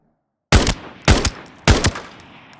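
Three loud, sharp T03 rifle gunshots in the shooter game Arena Breakout Infinite, evenly spaced about half a second apart with short ringing tails, after a moment of silence and with no voices.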